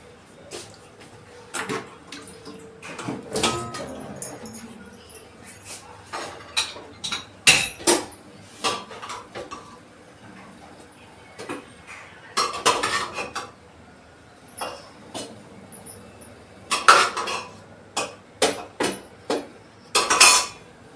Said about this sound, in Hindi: इसे प्लेट को भी मैं धो लेती हूँ।